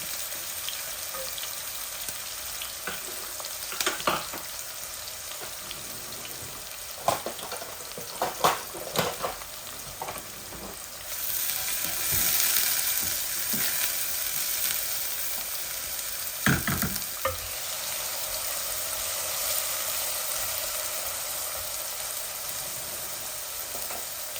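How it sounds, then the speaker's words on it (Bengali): Onions frying in a pan, a loud, continuous close sizzle punctuated by repeated clanks and scrapes of stirring, rising in intensity midway, with no talking. "এখন আমি পেঁয়াজ দিলাই।"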